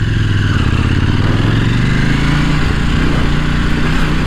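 KTM Duke 790 motorcycle ridden off-road, a loud, close, continuous engine drone with steady rumbling and slight pitch shifts as it rolls along, no voices.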